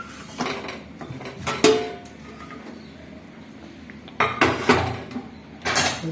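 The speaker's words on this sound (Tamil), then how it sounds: "குக்கரை திறந்துடலாம்." Metal pots, a pressure cooker lid and utensils clank and clatter in a kitchen while beans dal curry is being made, with a few sharp knocks in two bursts separated by quiet.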